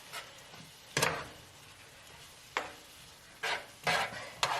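A spoon stirs smoked and sweet Hungarian paprika from Kalocsa into a turkey bolognese, giving a handful of close, scraping strokes with soft wet sizzle between them and no talk.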